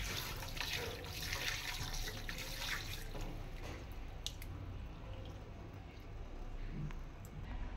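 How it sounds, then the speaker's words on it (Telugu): Raw chicken being rinsed under a running kitchen tap for biryani, a steady close wash of water with splashing and dripping throughout, no talk. "సో వాష్ చేసుకుంటున్నాను చికెన్ అంతా నీట్గా."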